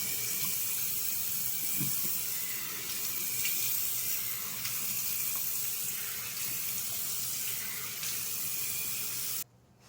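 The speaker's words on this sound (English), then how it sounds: "Now, I'm going to just go ahead and rinse this." Steady running water from a tap pours into a kitchen sink as an item is rinsed under it, a continuous close splashing wash that cuts off abruptly near the end.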